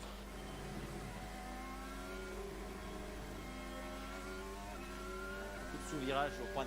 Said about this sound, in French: On suit la fin du tour de Pat Howard